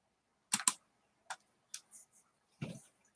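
Clacky keystrokes from a chunky computer keyboard come in sparse irregular clusters, a quick double tap first, then single clicks and a final heavier press, close and crisp against silence.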